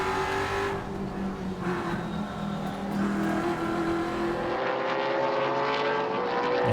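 TA2 race cars racing at Sonoma Raceway in the Trans Am Series, engines droning and revving through gears with a rising, sustained roar, moderately distant, no talking.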